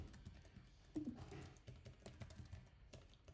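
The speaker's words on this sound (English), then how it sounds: "I'm typing using my old keyboard in my home." Typing on an old home computer keyboard, a continuous run of quick, soft key taps with a steady background hiss, close and low in level.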